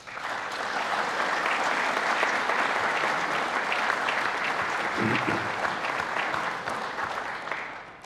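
Audience at a congress at the Cité Internationale Universitaire de Paris breaks into sustained, full applause, a steady dense patter of many hands lasting about eight seconds and tapering slightly at the end.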